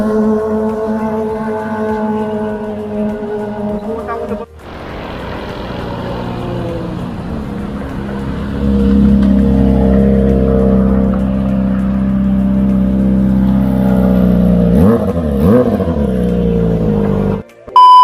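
Kawasaki Ninja ZX6R with an aftermarket exhaust, starting with a steady idle, then a sudden louder blast of engine noise that settles into a rough, droning rumble with a brief rev near the end, close up.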